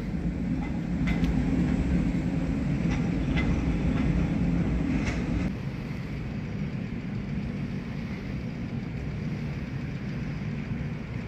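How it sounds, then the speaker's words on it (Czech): Trams idling and moving at a crowded tram loop on route 27 in Prague's Libuš area, a steady low rumble with faint metallic clicks and squeals, louder in the first half then easing to a constant background drone. "Plná smyčka tramvají."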